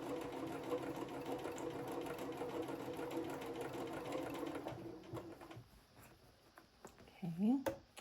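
A sewing machine stitching paper-pieced fabric under the presser foot, a fast quiet whirring run that stops midway, followed by a few soft handling clicks and rustles, with a voice talking over it.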